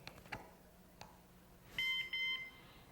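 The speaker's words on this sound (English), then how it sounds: "When you hear that beep, it in fact tells you exactly what the time is." Faint clicks and room noise, then two short electronic beeps in a row, thin and high-pitched, heard over a speaker.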